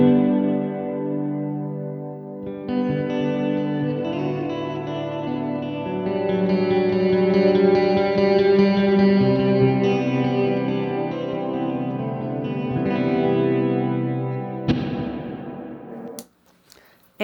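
Electric guitar played through cranked Fender Hammertone overdrive, reverb and delay pedals on the light channel: sustained distorted chords and ringing notes with a lush, echoing wash, loud and continuous, ending in a brief strum and cutoff.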